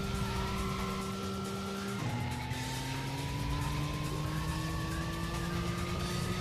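In the PlayStation game Racing Lagoon, a race car holds top speed near its rev limit as a loud steady engine whine, dropping in pitch at one gear shift and then climbing slowly again, with no talk.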